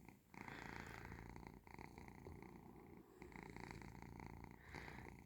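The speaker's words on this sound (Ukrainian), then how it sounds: "І він мурчить." A domestic cat purring up close as it is stroked, a steady rumbling purr broken by short pauses for breath.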